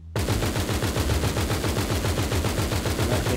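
A sustained, loud burst of rapid automatic video game gunfire in GTA 5, evenly spaced shots firing nonstop for several seconds.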